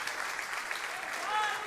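A church congregation applauds during an evening worship service, a soft, steady wash of clapping with some voices mixed in underneath.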